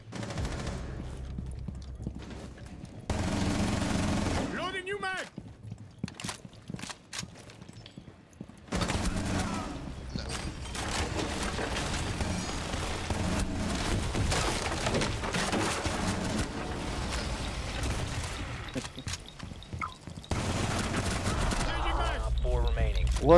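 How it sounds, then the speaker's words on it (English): Rapid gunfire bursts in Rainbow Six Siege firing through a wall, dense repeated shots with cracking and splintering impacts, mixed with game sounds and a voice talking over it. "How are they fucking shooting me through this wall"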